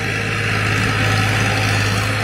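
A Farmtrac 45 tractor engine revs hard and loud, hauling a loaded trolley of about 60 quintals uphill in a steady, unbroken drone.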